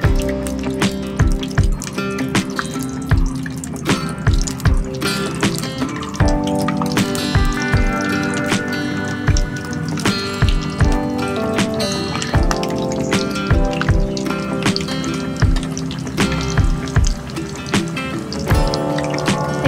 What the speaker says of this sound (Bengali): তো আমার তেলটা হিট হয়ে গেছে, ছেড়ে দেবো নিচেগুলা একটা করে।